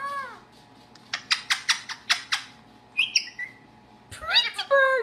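A pet parrot giving a run of sharp, rhythmic squawking calls, then a brief whistle and a final burst of warbling chatter, close by and clear over a quiet room.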